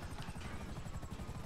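A low, rapid chopping thrum of helicopter rotors in GTA Online, steady and fairly faint, with no voices.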